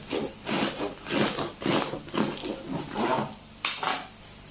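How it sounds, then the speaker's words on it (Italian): An oven rack being lowered and a baking tray shifted while baking ciabatta bread, giving a run of metallic scraping and clattering pulses, moderately loud and close, with no talking. "Adesso abbasso la griglia a livello inferiore e continuo la cottura"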